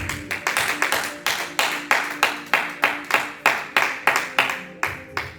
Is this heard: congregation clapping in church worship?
yes